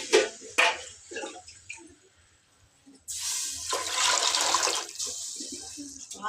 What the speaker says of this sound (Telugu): ఇంకా మనం నీళ్ళు పోసేసుకుందాం.